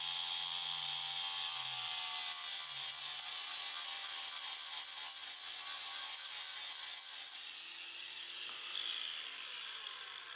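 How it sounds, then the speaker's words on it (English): A propeller blade's back face is shaved down with a hand tool to sharpen its front edge, giving a steady, close scraping and rubbing that runs continuously before easing off near the end. "we'll start shaving off the material on the back here to sharpen up that front edge"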